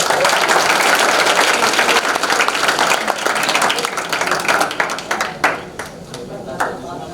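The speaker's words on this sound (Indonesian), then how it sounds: "Tepuk tangan untuk Gibe" Applause from a group of seminarians at a retreat, dense steady clapping that thins out and fades toward the end, with a few scattered claps remaining.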